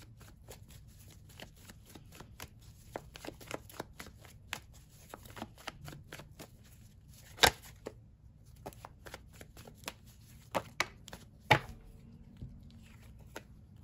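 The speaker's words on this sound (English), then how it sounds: "Let me pull one more card on this Ace of Cups." Tarot cards shuffled by hand in a quiet room, making a soft, continuous riffling patter broken by occasional sharper snaps and flicks as cards are handled and pulled from the deck.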